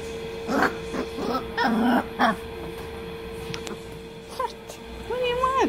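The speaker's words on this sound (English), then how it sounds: "Who's barking?" A 24-day-old puppy gives a few sharp yips and short barks, then a thin whimper, close by, with a person speaking intermittently.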